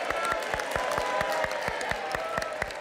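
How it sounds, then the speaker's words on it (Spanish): Rhythmic group clapping in unison on a Cuban studio program about the Olympics, loud, regular claps in a steady beat from a crowd, with some voices mixed beneath. "No tenemos lema, pero tenemos un aplauso."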